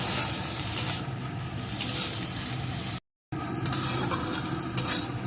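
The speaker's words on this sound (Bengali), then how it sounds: "এখন মটরশুঁটিগুলোকে একটু ভেজে নেব মিডিয়াম টু লো আছে এইভাবে নাড়িয়ে নাড়িয়ে ভাজতে হবে" Green peas fry in a pan over medium-low heat, giving a steady close sizzle broken by scraping stir strokes, with one brief dropout in the middle.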